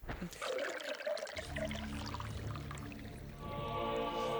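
Waste water runoff splashes and trickles steadily in the Eternal Darkness video game, a faint liquid pour joined by a low droning hum in the later half.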